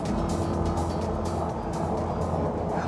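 A 2020 Chevrolet Corvette Stingray Z51 on inexpensive tires at speed during a hot lap on a track, its engine producing a steady, loud, continuous drone with a dense roar heard from close by.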